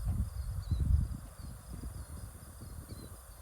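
Many frogs call at a night pond, a dense chorus of overlapping low croaks and trills with faint insect chirring above, steady and moderately distant.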